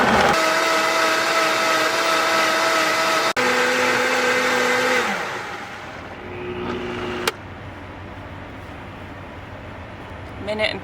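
A loud blender whirs steadily while making a green smoothie with lemon, then shifts pitch and winds down, leaving a quieter hum.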